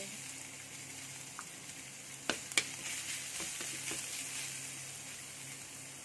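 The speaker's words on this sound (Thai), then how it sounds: "เราใช้น้ำมันที่ค้างกระทะนะ ก็ ไม่เยอะนะ เราจะใส่กระเทียมลงไป" Soft sizzling of garlic frying in a little oil in a pan, with a couple of sharp clinks of a utensil, quiet and close with a faint background hum.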